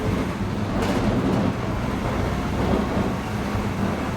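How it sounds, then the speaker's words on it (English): Inside a Mercedes Sprinter camper van with no sound deadening, a loud, steady low road rumble and hum fill the cab while driving, with no voices over it. "driving the van over the past couple of weeks with no sound deadening at all"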